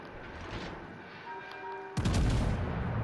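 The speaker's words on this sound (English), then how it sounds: "I've shot, got shells out for the Poltava" Warship guns firing in World of Warships: Legends, a single deep heavy boom that breaks in suddenly after a quieter stretch of engine hum and tonal game sounds, then rolls on loudly for about a second.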